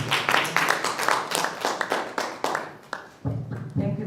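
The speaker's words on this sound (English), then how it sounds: "Let us give him another round of applause." A conference audience gives a round of applause, close and fairly loud, in a steady patter of overlapping claps that thins out and briefly dips before picking up again.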